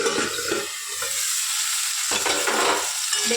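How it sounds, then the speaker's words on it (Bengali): Potato pieces fry in a pan for a Bengali mustard paneer dish, giving a steady, close sizzle with stirring scrapes and a short break midway, with no talking. "আর একটু কড়া কড়া করে ভেজে নেবো আলুগুলো"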